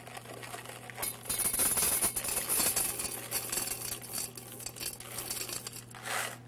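Metal pots clink and clatter quietly while being arranged into a double boiler for melting white chocolate in a kitchen, with scattered knocks and scrapes over a steady low hum.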